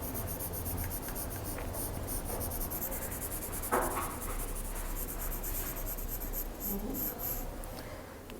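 A pencil shades across paper with steady, close scratchy strokes, quiet and continuous, carrying on without talk through the whole stretch.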